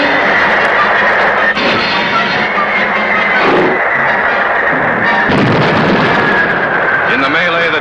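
Submarine torpedoes are fired and explode against ships in a restored TV show about the USS Jack at Tokyo, heard as continuous loud, rumbling booms and blasts with heavy low-end roar, under a narrator's voice.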